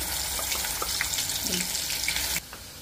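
Ground spice paste sizzles and fries in hot oil in a wok for a Vidarbha-style kata chi aamti, a steady close hiss with small crackles and light stirring, dropping abruptly quieter near the end.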